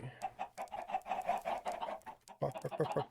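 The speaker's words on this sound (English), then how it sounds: "Got lots of chickens through here." Several Minecraft chickens cluck in quick, overlapping bursts, fairly close and steady, with a brief lull before the clucking picks up again.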